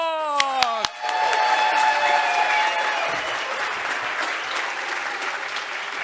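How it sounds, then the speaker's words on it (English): A conference audience bursts into loud, sustained applause and cheering that slowly tapers, following a short musical sting at the start. "please join me in a rapturous cavalcade of applause"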